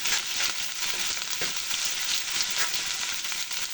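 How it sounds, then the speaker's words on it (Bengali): Fish frying crisp in oil for a fish, potato and taro curry, giving a continuous bright sizzle with faint crackles, moderately loud and steady, with no talking. "মাছটা উল্টে পাল্টে ভাজা হচ্ছে, কড়া করে ভাজা হচ্ছে"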